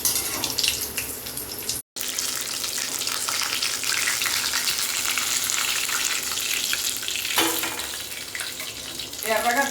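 Stuffed buns hiss and sizzle as they fry in hot oil, a steady close crackle lasting throughout, broken by one brief silence and a sharper burst near the end.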